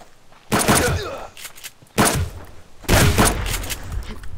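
Three loud, sharp bursts of gunfire in the survival video game Subsistence, each a close blast with a short decaying tail, spaced roughly a second and a half apart.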